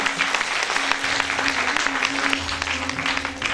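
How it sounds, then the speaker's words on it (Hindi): An audience applauds to welcome guests onto the stage at a felicitation ceremony, with close, loud clapping that stays dense and continuous from start to finish, over a faint steady tone. "पुनः एक बार मैं आपसे रिक्वेस्ट करता हूं, जोरदार तालियों से स्वागत कीजिए।"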